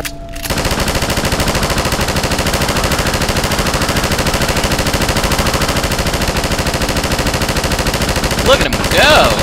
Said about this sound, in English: So, time to put that gun to use.